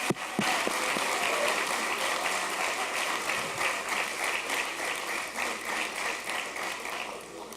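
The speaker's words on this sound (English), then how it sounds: "let's give him a big round of applause." Sustained applause from an audience at a police promotion ceremony, a dense, steady wash of many hands clapping for the full length, fairly near and even in loudness.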